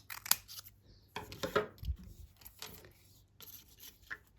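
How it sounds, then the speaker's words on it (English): Scissors snipping paper strips for a honeybee craft made from recycled materials: several crisp, separate cuts close by, with quiet rustling and handling between them. "So let's cut some more."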